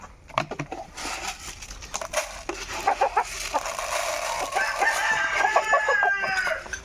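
Backyard chickens cluck in a busy, uneven chatter and a rooster crows near the end. The birds are close and fairly loud, with no voices.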